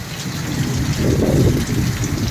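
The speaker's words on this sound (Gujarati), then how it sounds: "જબર વરસાદ પડે રો ભયા" Heavy thunderstorm rain drums down in a thick, constant roar, swelling louder midway, with no one speaking.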